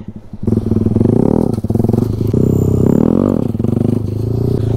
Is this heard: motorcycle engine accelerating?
yes